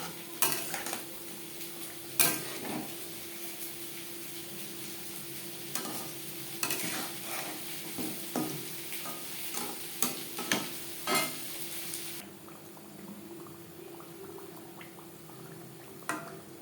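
Steady hiss of oil sizzling as crispy khaja pastry deep fries on low flame, with repeated clinks and scrapes of a utensil stirring; the crackle thins out near the end.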